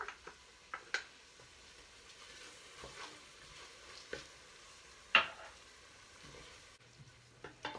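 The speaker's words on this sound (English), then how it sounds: "So I'm actually going to add some garlic now because my onions are starting to get soft." Garlic sautéing with softened onions in a soup pot over medium heat for three sisters soup makes a faint, low sizzle broken by occasional soft clicks of stirring.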